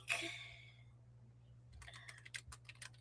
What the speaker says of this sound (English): I heard that typing.